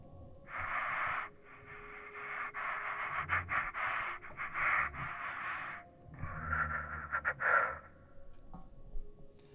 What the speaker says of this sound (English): I can hear your breathing, your breath. Like, you're standing pretty close to the speaker